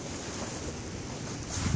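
Steady broadband wind roar buffeting outdoors in snow, continuous and fairly loud, swelling slightly toward the end.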